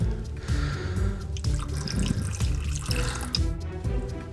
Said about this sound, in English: we need to fill it up with water to the red line on the outside and give it a stir